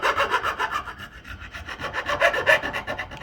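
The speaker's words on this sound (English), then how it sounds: "I'm going to follow the radius of the fretboard with my file, as I go." Steady rhythmic rasping of a metal file stroking back and forth across guitar fret ends, following the curve of the fretboard, close and loud with no speech.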